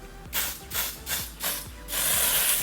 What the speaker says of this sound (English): And I like to spray it directly on the skin.